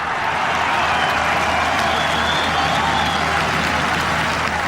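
A golf crowd at the 2009 Open Championship at Turnberry breaks into loud, sustained applause and cheering that fills the whole stretch, dense and continuous with no break.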